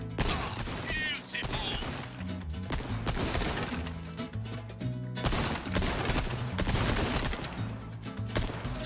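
Gunfire rings out at a shooting range in Resident Evil 4, with repeated sharp shots and bursts arriving in irregular clusters over layered game music, and someone talks intermittently.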